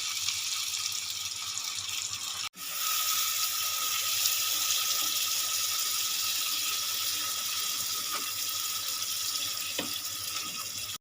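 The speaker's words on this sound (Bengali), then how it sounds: "এবার আমি দিয়ে দেবো জল" Water pours into a hot pan of frying fish-head and potato muri ghonto curry, making a loud continuous hissing rush that stops for a moment, then carries on steadily.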